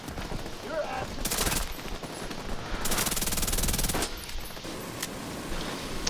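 Sustained automatic gunfire from the shooter game The Division 2 rattles in long loud bursts, close and continuous, with a voice talking beneath the shooting.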